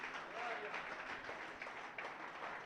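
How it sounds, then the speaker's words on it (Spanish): A congregation applauds in church, dense steady clapping filling the room, with voices mixed in throughout. "Dele un aplauso al Señor, mi hermano,"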